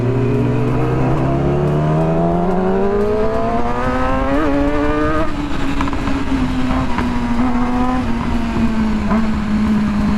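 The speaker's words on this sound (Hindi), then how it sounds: "Backfires are crazy in this bike" A Yamaha YZF R6 with a very loud exhaust revs hard, its engine note sweeping upward and then holding a high, raspy drone. Faint crackles are scattered through the continuous roar.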